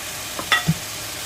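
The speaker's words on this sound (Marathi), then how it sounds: "आता आमी मिक्स करूया." A spoon stirs cabbage and Goan pork sausages in a pan, giving a couple of brief, soft scrapes and a light clack in an otherwise quiet moment.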